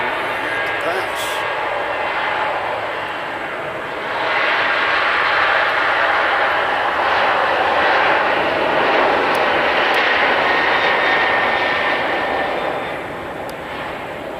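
An airliner takes off from runway 2 right at Nashville International Airport, bound for Tampa, its engine roar a steady broadband rumble that swells midway and holds before easing slightly, with a voice talking over it.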